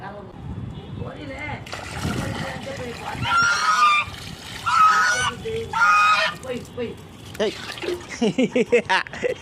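A large duck honks repeatedly near water in loud, nasal bursts, with splashing and sloshing nearby and a person talking over and between the calls.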